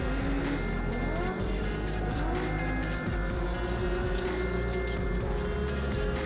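TQ midget race cars circling at Nelson Speedway, a dense continuous scream of several high-revving engines with rapid passing whines and pitch sweeps throughout.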